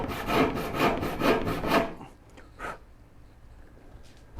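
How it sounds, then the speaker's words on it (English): A cross-cut hand saw rasps through wood in four quick back-and-forth strokes, close and loud, then stops, leaving faint room noise and a small knock. "dang if cross-cut saws don't get it done"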